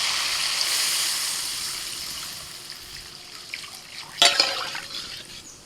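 Water is poured into a pan of potatoes sautéed with spices, making a soft, continuous splashing trickle that fades, followed by a brief louder splash near the end.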